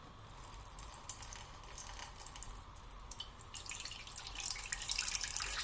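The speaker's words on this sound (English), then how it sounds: "we're going to put 1 cup of water." Water poured into a container sitting on a kitchen scale, measured out for a geranium cordial, a soft steady trickle that builds slightly louder toward the end, with no talking.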